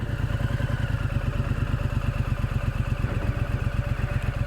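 A 2023 Triumph Scrambler 900 motorcycle pulls away slowly as the clutch is let out, its engine throbbing in a steady, close, even pulse with a faint mechanical clatter and no voices.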